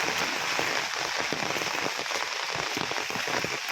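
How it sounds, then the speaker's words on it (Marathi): Steady, continuous rain pours down, a dense hiss of drops spread evenly throughout with no pauses or voices. "कंटिन्यू पाऊस चालू आहे"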